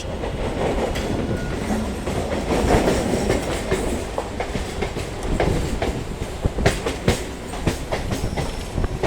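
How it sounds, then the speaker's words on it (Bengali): A local train on the Howrah line rolls past nearby, a steady loud rumble with rhythmic clickety-clack of wheels over rail joints and sharp clanks near the end. "ডাউনে হাওড়ায় কিন্তু একটা লোকাল ট্রেন ঢুকছে"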